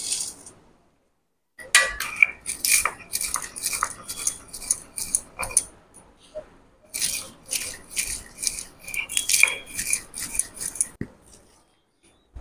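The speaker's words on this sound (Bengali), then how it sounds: "এবারে সেই ভাজা মশলাটা গুঁড়ো করব।" Roasted spices being ground for a mango kasundi, heard as bursts of dry rattling, scraping and clattering grit that run in two long spells with a short pause between, close and fairly loud, with no voices.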